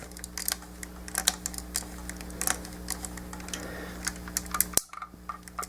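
Knee joint gears of a Transformers Revenge of the Fallen Leader Class Jetfire toy ratchet in a quick series of small, crisp, close plastic clicks over a faint steady hum, ending in a sharp snap.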